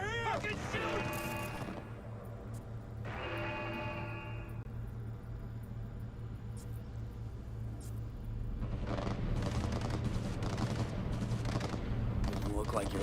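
Rapid gunfire rattles through a Cyberpunk 2077 video game shootout, building into dense bursts near the end over a steady low hum, with voices talking at times.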